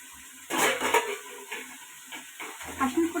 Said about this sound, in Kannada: ಅರಿಶಿನ ಪುಡಿ ಹಾಕಿ ಮಿಕ್ಸ್ ಮಾಡ್ಕೊಳ್ಳೋಣ